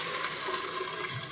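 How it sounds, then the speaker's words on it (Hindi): Water from a jug pours into a cooking pot holding chicken korma masala, a continuous close splashing gush with no talk. "थोड़ा पानी भी डाल रही हूँ फ्रेंड्स में जो"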